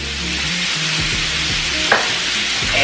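Sausage sizzles in a pot for gumbo, a steady close hiss and crackle with occasional low knocks and scrapes from stirring, no voices.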